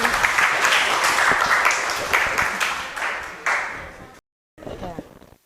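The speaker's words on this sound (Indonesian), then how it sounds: "Lagi tepuk tangan." Classroom applause, a burst of many hands clapping together in uneven waves that fades, followed by a short pause and then a teacher speaking.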